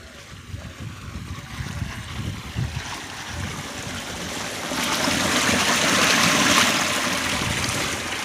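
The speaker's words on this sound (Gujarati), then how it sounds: "આ જુઓ પાણી હેડેલું છે," Hot water flowing in a kund, a small hot-spring pond, during the rainy season. A steady rushing trickle runs throughout and swells louder in the second half, with no voices.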